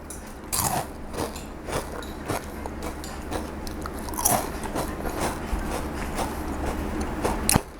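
Crisp thong muan, a Thai rolled wafer, is bitten and chewed close up, giving a run of sharp, brittle crunches at an uneven rhythm with no talking.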